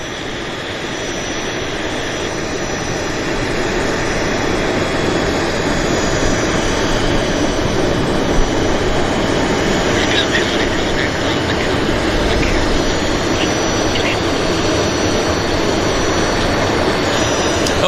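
Jet airliner on Montreal Flight 304 at Vancouver airport, a loud, steady engine roar that swells slightly and holds without pause, with faint higher whine threads riding on top.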